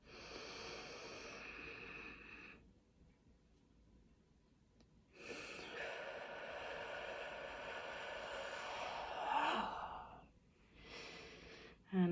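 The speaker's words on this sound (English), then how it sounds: "I'm going to breathe in for 4." Slow, deep inhalations during a calming breathing exercise, long drawn-out breaths close to the microphone separated by quiet pauses, soft and unhurried with no talking.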